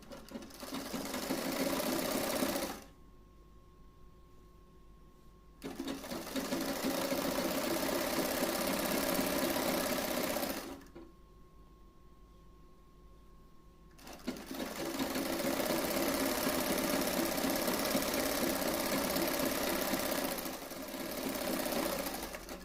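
A sewing machine stitches a small folded hem on a sleeve in three close, steady runs of whirring with brief quiet pauses between them. No one speaks.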